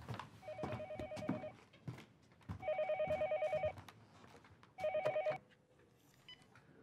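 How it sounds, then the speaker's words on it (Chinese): A telephone rings indoors in three separate bursts of trilling bell tones, each about a second long, over faint room noise and light movement. "你没听见电话响吗？"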